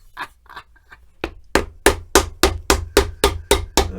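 Hammer strikes on leather for a Gaziano & Girling shoe, about nine sharp, evenly spaced blows following a few quiet handling sounds, close and loud with no talking.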